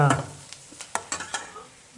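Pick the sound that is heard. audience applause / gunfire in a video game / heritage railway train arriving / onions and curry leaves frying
onions and curry leaves frying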